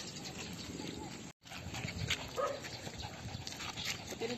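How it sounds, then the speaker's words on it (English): Two big dogs make barks and whimpers close by, mixed in with people talking and household noise. "Dalawa big dogs niya."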